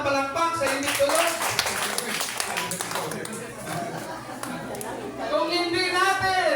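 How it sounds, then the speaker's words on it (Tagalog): A church congregation claps together during a service, a dense burst of clapping mixed with chatter and a chuckle, fading midway and then swelling again near the end. "Isang bagsak na palakpak sa hindi tulog."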